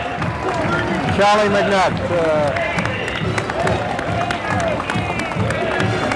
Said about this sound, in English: Our new fire chief is getting a hand from the crowd